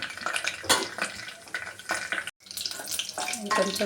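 Mustard seeds, cumin and dried red chillies frying in hot oil for a vegetable curry: a crackling, popping sizzle with bursts of spattering and a brief pause, close and moderately loud.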